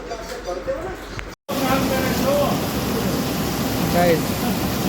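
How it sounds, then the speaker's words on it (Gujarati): Unseasonal rain pours down steadily as a broad, continuous hiss that fills the whole clip, broken by one brief cutout near the start, with voices talking faintly under the downpour. "બિન મોસમ વરસાદ."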